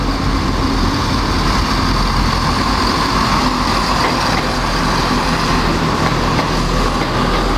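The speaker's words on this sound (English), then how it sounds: "that train is now heading for Stamford and Peterborough and down to Stansted Airport" A train rumbles steadily through a railway station on a line serving Stamford, Peterborough and Stansted Airport, a loud continuous low roar with broadband rail noise and no pause throughout.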